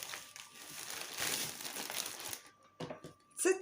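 Close, steady crinkling of thin plastic packaging being handled and pulled open, rustling continuously before a short pause and a final crackle.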